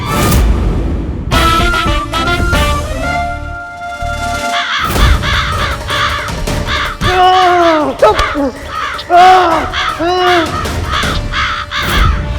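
Several crows caw loudly in a burst of harsh, repeated calls, overlapping and close, with a few sharp knocks and bangs early on and no speech.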